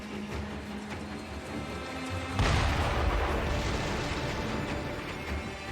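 In the video game Sekiro, a cannon fires with one loud, deep boom partway through and leaves a rumbling tail, over a dense game backdrop of ambience and clatter.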